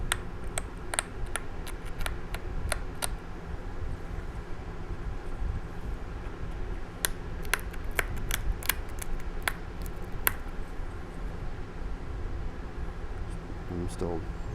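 Flintknapping on a river rock, with sharp stone-on-stone taps trimming the edge in quick clustered series, close and crisp over a steady low background rumble.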